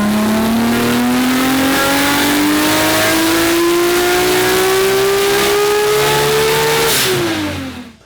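A Nissan RB engine making over 1100hp, running HKS ignition coils, revs loudly in a long, steadily climbing pull with a rising pitch, then drops off sharply near the end as the throttle closes.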